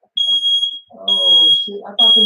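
A smoke alarm set off by vape smoke shrieks in sharp, piercing, repeated beeps, close and loud, with people talking excitedly between and over the tones.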